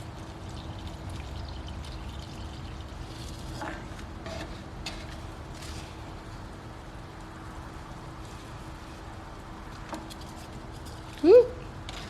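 Water poured from a plant waterer into a potted houseplant trickles faintly and unevenly under a woman's speech, with a short gurgling splash near the end.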